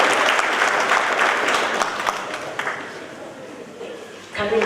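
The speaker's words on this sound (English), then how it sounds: "Can we clap for them?" An audience claps for the parents at a mathematical olympiad gathering, a dense, loud burst of applause that thins out gradually over several seconds, ending in a brief clatter.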